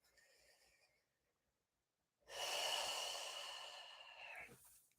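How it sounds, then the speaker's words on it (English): Slow, deliberate breathing during a relaxed vocal warm-up: a soft breath, a brief pause, then a long, fuller airy exhale heard close and alone. "Start to slow down your breathing."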